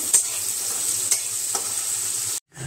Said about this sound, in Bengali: এবার পেঁয়াজ আর টমেটো নাড়িয়ে চাড়িয়ে একটু ভাজা ভাজা মতো করে নেব।